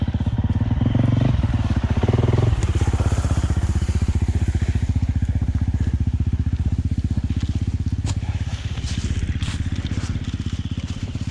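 Dirt motorcycle grinding slowly through deep ruts on a wooded trail, its engine loud and close with a steady low throb throughout, plus occasional clatter and crunch from the bike.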